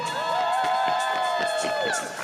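A crowd cheers and shouts for Alpha Omega at a live show, a dense wash of raised voices with sustained tonal sounds running through it, loud and steady for about two seconds before tapering off.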